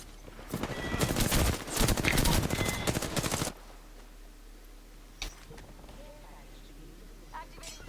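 Automatic gunfire in Apex Legends on Nintendo Switch 2 rattles in loud rapid bursts for a few seconds, then falls away to quieter game sounds with a single sharp shot later.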